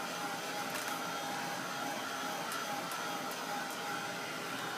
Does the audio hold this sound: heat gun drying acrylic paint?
yes